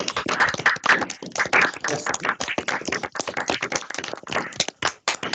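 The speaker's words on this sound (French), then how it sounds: "vous pouvez peut-être rapidement activer votre micro pour qu'on applaudisse" Scattered hand clapping from several people over online meeting microphones at the end of a talk on the psychology of conspiracy beliefs, uneven and slightly choppy, with one voice briefly speaking.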